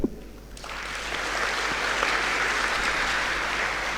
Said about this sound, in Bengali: আমরা সবাই একসাথে করতালির মাধ্যমে সবাইকে আমরা কংগ্রাচুলেট করতে পারি